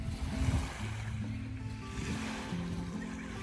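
Gentle water lapping at the sandy shore of Lake Louisa in a Florida state park, a soft continuous wash with low rumble and wind, no voices.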